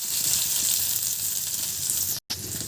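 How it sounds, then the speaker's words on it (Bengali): Chillies frying together with garlic and onion in a pan give a steady, close hiss and sizzle, broken by a brief silent gap near the end. "মরিচের সাথে রসুন, পেঁয়াজ, এগুলো সব একসাথে ভেজে নিতে হবে।"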